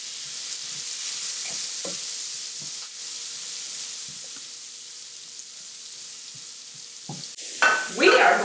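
Chopped standard yellow onion frying in a pan, a soft even sizzle with faint stirring knocks, swelling into a louder burst of crackling near the end.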